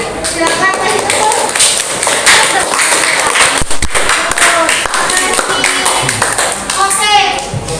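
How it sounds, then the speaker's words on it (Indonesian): A high school physics classroom full of students claps loudly and raggedly for a group's presentation, with dense overlapping hand claps and children's voices mixed in throughout. "Silakan kasih tepuk."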